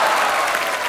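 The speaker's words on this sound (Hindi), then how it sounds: "ठोको ताली" Studio audience on a Hindi comedy talk show bursts into dense, loud, sustained clapping that fills the whole short moment without pause.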